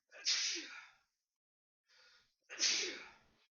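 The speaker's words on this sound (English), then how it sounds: "what does NVIDIA think of a sneeze?" A person sneezes twice, two loud bursts roughly two seconds apart with a softer breath between them, heard alone and close up.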